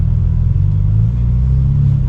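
Tuned twin-turbo BMW 335i with a full exhaust, a deep steady rumble from inside the cabin with a slight swell in pitch midway, continuous and loud, without voices.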